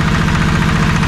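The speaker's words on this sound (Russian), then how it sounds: "на китайском двигателе, примерно 15 лошадиных сил" Chinese-made outboard motor of about 15 horsepower pushes a boat along at roughly 7 km/h on an August river trip out of Igarka, a loud, steady low drone with a fast pulsing beat and no break.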